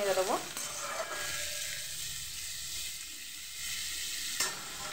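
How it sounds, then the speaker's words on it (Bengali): Pumpkin with grated ginger stirred in a hot frying pan: a brief scrape at the start, then a steady, even sizzle that carries on quietly throughout with no talking. "এবার এটাকে নেড়ে দেবো।"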